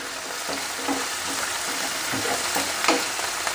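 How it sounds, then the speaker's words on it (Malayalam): Potatoes and ginger fry in a hot pan with a steady, close broadband sizzle and occasional stirring scrapes, no voices. "അതിന് ശേഷം ഞാൻ ഇഞ്ചി കൊടുക്കുന്നു."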